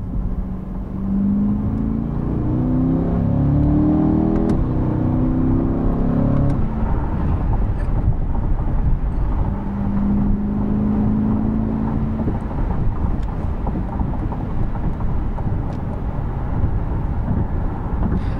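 Inside a 2020 Chevrolet Corvette C8 Convertible, a steady low engine rumble fills the cabin, with a rising tone early on and constant road and wind noise underneath.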